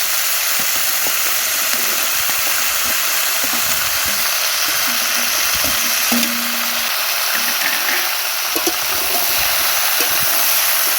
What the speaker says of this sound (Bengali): এটা হয়ে গিয়েছে এবার ডাঁটাগুলো দিয়ে দেবো